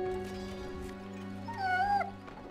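Dogs in the real-time strategy game Stronghold Legends give off whining, yelping calls that rise over a steady layer of game music and ambience, peaking briefly near the middle.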